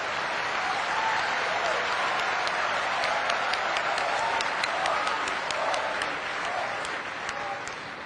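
Dense, sustained applause from a large audience at a diamond bourse inauguration ceremony in Surat, steady and loud throughout before tapering slightly at the end.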